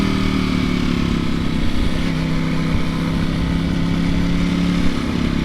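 A Ducati V4 SP motorcycle engine drones loud and steady while the bike is ridden, a close, continuous rumble with a low hum and slight fluctuations and no talk over it.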